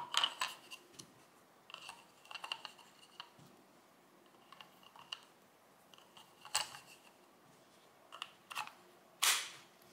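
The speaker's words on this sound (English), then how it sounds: "Now we're going to reinstall the contents of the pistol grip cavity here" Parts going back into the pistol grip cavity of a SIG SG 510 rifle give sharp metallic clicks and snaps, scattered and irregular, with a louder clack near the end and quiet gaps between.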